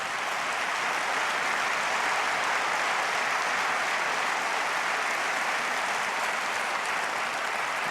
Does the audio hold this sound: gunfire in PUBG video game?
no